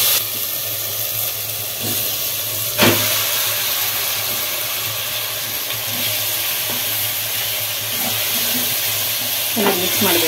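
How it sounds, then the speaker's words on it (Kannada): Marinated chicken fries in a pressure cooker for a biryani, giving a continuous close sizzle and hiss with occasional scraping stirs and clinks throughout. "ಈಗ ಮ್ಯಾಗ್ನೇಟ್ ಆಗಿರೋ ಚಿಕನ್ನೇ ಹಾಕೋಣ."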